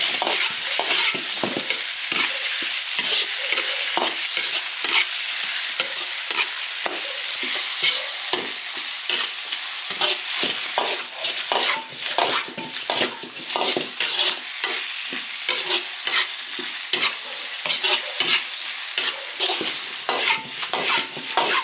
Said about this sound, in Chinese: 把牛肉炒入味